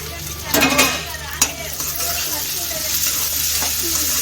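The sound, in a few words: mixture being stirred and cooking in pan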